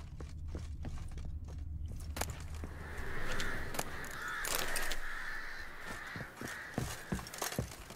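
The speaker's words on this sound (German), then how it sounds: "Irgendwie mag ich die Geräusche der Krähen oder Raben." Crows cawing in the Witcher 3: Blood and Wine video game, several harsh caws sounding alone over soft footsteps and rustling ambience.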